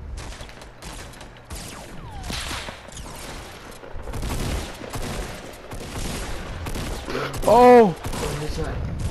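Bursts of sustained gunfire from a minigun in an online shooter game, mixed with other shots and game effects, while a player calls out briefly over the noise.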